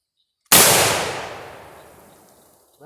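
A single sharp blast from a Traditions Kentucky muzzleloader rifle, loud and close, followed by a long fading echo over roughly two seconds, heard on its own with near silence before it.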